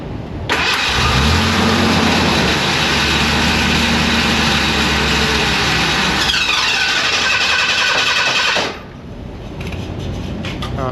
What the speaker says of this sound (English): You have to smack it every time it keeps cranking the starter.